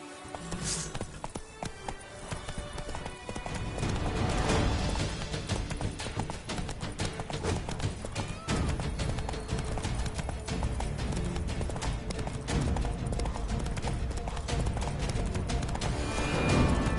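Horse hooves gallop in The Witcher video game, a rapid, continuous clip-clop rhythm that speeds up after a slower start and runs steadily alongside game ambience, with no talk.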